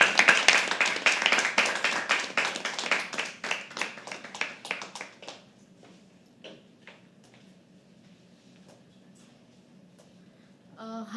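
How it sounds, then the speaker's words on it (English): Clapping from an audience at a live poetry open mic, many hands in dense, steady applause that thins out about halfway through and gives way to scattered claps and quiet room noise. "So can we start clapping?"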